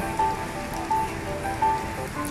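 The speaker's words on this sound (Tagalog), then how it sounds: "ang lakas ng ulan" Heavy rain pouring at National Stadium Singapore, a steady close hiss of drops on hard surfaces, continuous and even with no voices.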